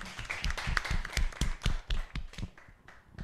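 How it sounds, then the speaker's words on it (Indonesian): Students in a physics classroom clap their hands together, a brisk run of uneven, close claps from a small group that thins out toward the end, with no talking. "Beri tepuk tangan untuk kita semua."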